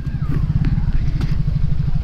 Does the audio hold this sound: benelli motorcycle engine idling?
yes